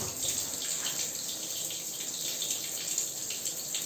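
Black water draining steadily from a radiator during flushing of a combi boiler heating system, a continuous close splashing gush of water like a running tap, with no talk.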